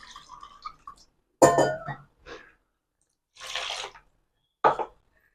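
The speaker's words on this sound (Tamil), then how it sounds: "மிக்சி சார கழுவி கொஞ்சம் தண்ணி ஆட் பண்ணிடலாம்" Water sloshes and splashes in short bursts inside a metal mixer grinder jar being rinsed in a kitchen, with clinks and drips between the rinses.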